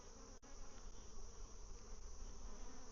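Honeybees buzz around an open hive during an inspection, a dense steady hum from many insects that fills the whole stretch, fairly soft and without any voices.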